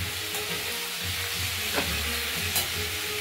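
Bean and poppy seed paste with green chilli fries in a pan, a dense, close sizzle that fills the whole moment, with a couple of soft stirring scrapes and no talking.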